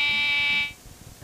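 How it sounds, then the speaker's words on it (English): Smoke detector test alarm in a TV public service announcement: one loud, steady high-pitched electronic beep lasting about half a second, then cutting off to quiet background. "test your smoke detector once a week and replace batteries once a year"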